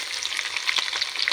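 Spices and crushed garlic for a dal tempering fry in hot oil, crackling and sizzling close up in rapid irregular pops, with stirring scrapes and no voices.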